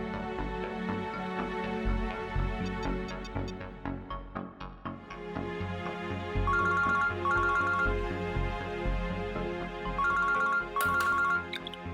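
Telephone ringtone chiming in repeated electronic bursts, loud and close over a busy music-like background, with no talking.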